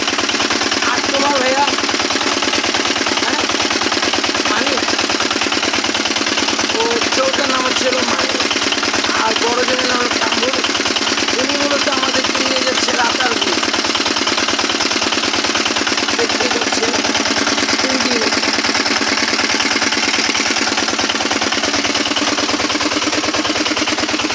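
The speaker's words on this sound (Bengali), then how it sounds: "তিনি আমাদের নৌকা চালাচ্ছেন" A boat engine running in the Ratargul swamp forest, a steady close mechanical drone with rhythmic knocking that carries on throughout, with voices talking faintly over it.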